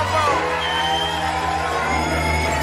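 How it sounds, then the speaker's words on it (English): A theater audience breaks into cheering and applause after a comedy set: a steady wash of whoops, yells and clapping from a crowd, loud and close, running throughout. "Okay, now y'all can go ahead and clap if you want."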